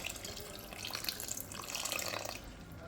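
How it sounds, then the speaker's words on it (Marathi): Half a cup of water is poured into a pot of cooked dal and potato, a soft splashing trickle for a couple of seconds, fairly quiet and close, with no talking. "पाणी टाकू,"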